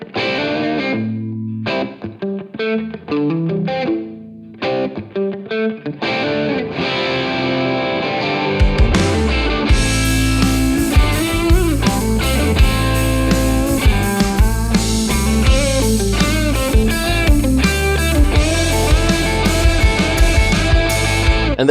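Electric guitar played through a Marshall amp, starting with sparse, choppy riffs and then breaking into a loud, thick distorted passage with full low end, with no talking over it.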